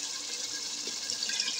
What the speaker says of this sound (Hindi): अब मैं यखनी डालूंगी इस स्टेज पे